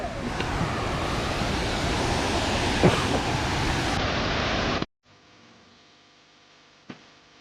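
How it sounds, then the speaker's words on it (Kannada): Loud, steady roar of rushing water at Abbi Falls in Coorg, Karnataka fills the air, then cuts abruptly to quiet room tone with a single faint knock near the end. "ಈಗ ನೀರಿನ ಶಬ್ದ ನಿಮಗೆ ಕೇಳಿಸ್ತಿದೆ ಅಂದಮೇಲೆ"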